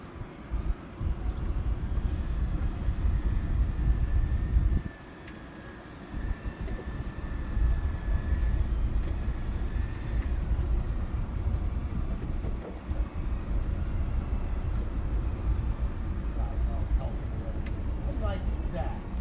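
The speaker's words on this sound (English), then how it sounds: "All right, throw the port engine in reverse." Steady low rumble of a 2003 Meridian 411 motor yacht's port engine running in reverse during a sea trial, broadband and continuous with a brief dip near five seconds, voices talking over it at times.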